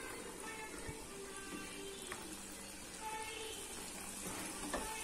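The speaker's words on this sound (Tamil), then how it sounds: "ஆயில் ஹீட் ஆயிடுச்சு. இப்போ மாவு நம்ம எடுத்து ஊற்றிக்கலாம்." Rice and jaggery appam batter fries in hot oil with a faint, even sizzle and light crackle that runs continuously through the clip.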